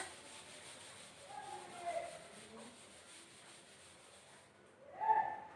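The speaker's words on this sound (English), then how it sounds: "So I'll rub the board." A board is wiped with an eraser during a chemistry lesson, a soft low rubbing that swells and fades in a few strokes, the loudest near the end, faint against room noise.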